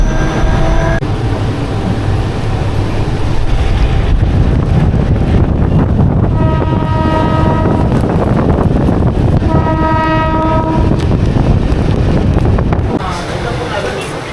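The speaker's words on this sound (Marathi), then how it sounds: "तर मित्रांनो आपण बसलो आता ट्रेनमध्ये." Loud rumble and rattle from inside a moving train headed to Neral during heavy rain, with wind buffeting the microphone and two long horn blasts sounding over the steady clatter.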